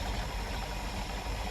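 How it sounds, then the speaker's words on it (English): A car engine idles steadily after oil pressure sending unit and cartridge oil filter work, producing a constant, even rumble heard up close without talk. "The sucker's idling."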